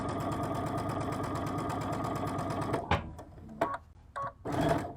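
A sewing machine runs steadily, stitching one continuous seam on a stocking, a dense mechanical whir that holds for nearly three seconds and then breaks into short bursts and handling noises.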